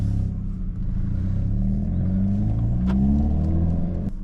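Hyundai i30N engine revving in sport mode with a low, steady rumble that slowly rises in pitch, heard close with a couple of sharp clicks toward the end and no talking.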